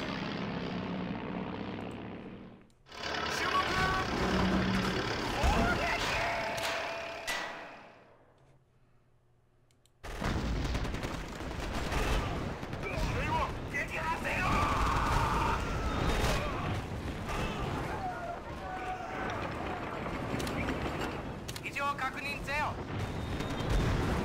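Aircraft bombing a base in Axis and Allies RTS during the invasion of India, a droning propeller-engine roar mixed with heavy blasts and rumbling impacts, pausing briefly before swelling again into continuous battle noise.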